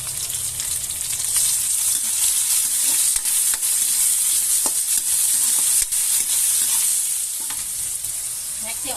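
Ginger and tomato sautéing in a hot pan, a loud continuous bright sizzle with occasional stirring scrapes, steady and close throughout.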